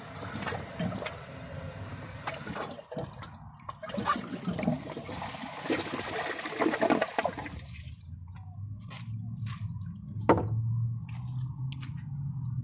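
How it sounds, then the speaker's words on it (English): Plunger work in a Kohler Wellworth toilet bowl, with wet squelching and sloshing water through the first half, then a quieter gurgling trickle and a single sharp knock near the end. "It's harder than you think to plunge with one hand."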